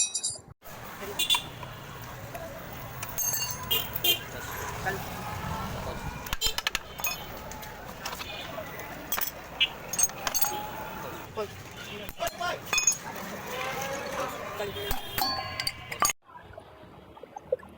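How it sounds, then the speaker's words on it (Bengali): A worn, sticking wheel bearing is worked out of a motorcycle wheel with repeated metallic clinks and tool clatter at close range, while a person talks throughout. "আমরা বেয়ারিং খুলছি, কিন্তু বেয়ারিং ঘোরার টাইমে আটকাইতেছে"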